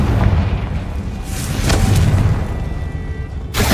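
Deep rumbling explosion from a Confringo blasting spell in the Hogwarts Legacy video game, with sustained booming and a couple of sharper bursts, ending in another crisp blast.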